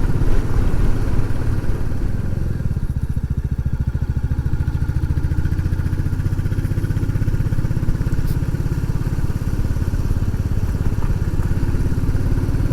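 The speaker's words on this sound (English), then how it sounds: "Get ready for listening to the engine pull." A Royal Enfield Classic 350 single-cylinder motorcycle labouring uphill on a climb onto high moorland, its engine a steady loud thumping drone with dense rhythmic firing pulses and wind rush, sustained without a break.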